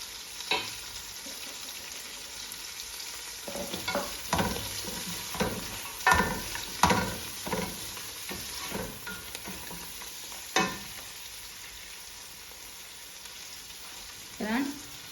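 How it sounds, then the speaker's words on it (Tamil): Capsicum sautéing in a pan with mint and coriander for prawn biryani: a steady low sizzle under repeated stirring scrapes and clinks, with sharper spatula knocks around the middle and end. "நான் இப்போ இதுக்குள்ள இந்த குடமிளகாயாக போட்டு வதக்குறேன்."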